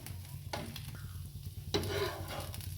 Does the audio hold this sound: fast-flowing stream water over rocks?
no